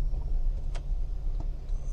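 Car interior drive on the way to a customer, with a steady low engine and road rumble throughout and a couple of faint ticks, no talking.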